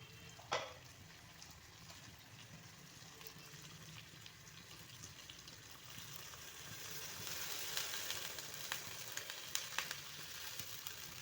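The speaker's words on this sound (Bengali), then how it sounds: "এখন গ্যাসের ফ্লেমটাকে বাড়িয়ে জল দিয়ে দেব।" Water poured over puti fish already sizzling in a pan on a gas flame turned up high; a faint, continuous frying hiss swells as the liquid goes in, with a few small knocks.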